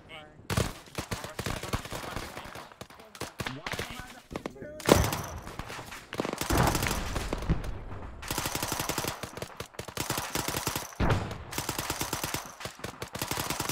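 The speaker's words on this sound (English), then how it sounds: "we're open firing" Heavy machine gun fire rattles through a marine battle in the video game Arma 3, with repeated close bursts, scattered shots and thudding impacts over several seconds, while players talk over the combat.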